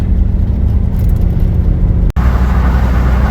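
A 1958 Edsel, a big old car with a passenger door that won't latch after decades parked, drives along the road with a steady close engine drone and road rumble, briefly cutting out for an instant midway.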